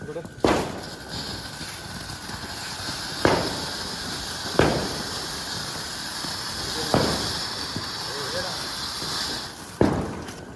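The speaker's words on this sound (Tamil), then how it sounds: "புஷ்வானமா அது?" A Diwali flower pot firework sprays with a sustained bright hiss, broken by several sharp cracker bangs at irregular intervals nearby, while people talk over the noise.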